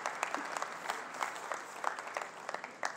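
A press conference audience at Sony's CES 2014 event applauds new Bravia 4K TVs, with a modest crowd clapping in crisp, scattered claps that hold through the stretch at moderate volume.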